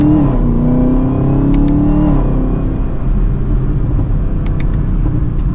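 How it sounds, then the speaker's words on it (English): A 2023 Chevrolet Camaro ZL1 with its factory exhaust pulls hard from second gear, engine note climbing loud and close, then a shift and continued rumbling acceleration with faint crackles and pops. "Get some puffs in that factory exhaust."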